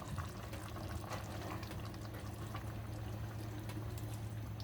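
Soup with macaroni elbows bubbles in a pot on the stove, a steady close simmering hiss and gurgle with a low hum underneath.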